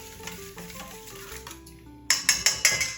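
Seasoned egg mixture with a pinch of salt whisked in a bowl for a Monte Cristo breakfast casserole, first a soft steady stirring, then four sharp, louder clinking strokes of utensil against the bowl near the end.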